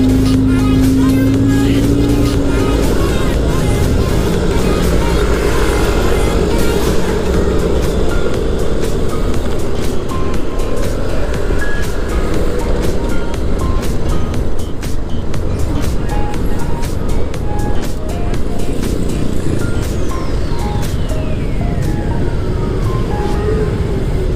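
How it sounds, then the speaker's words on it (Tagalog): Loud, continuous rumble of slow road traffic on a road trip to Malabon, with engines droning close by, a passing tone swelling early on and scattered clicks throughout. "Traffic, mabagal."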